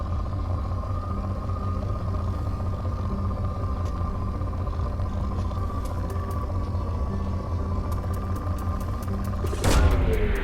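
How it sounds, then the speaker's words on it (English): A planet probe launching in Mass Effect 2 rumbles with a low steady drone, then ends in a sharp, loud whooshing burst of release. "Launching probe"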